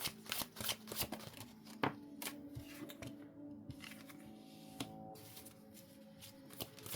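Tarot cards are shuffled and drawn at close range in a quiet room, giving a soft, continuous riffling with sharp snaps and slaps as individual cards land, and no voices.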